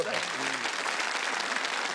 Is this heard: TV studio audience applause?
yes